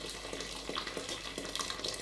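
Boiling water from a kettle pours steadily into a pot while making Welsh cawl, a continuous splashing gush heard up close with no talk.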